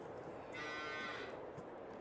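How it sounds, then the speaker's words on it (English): Cows mooing on a farm in Farming Simulator 22: one drawn-out moo rising over a steady outdoor ambience, moderately distant and fairly soft, with no talk during it. "come out and check the cows"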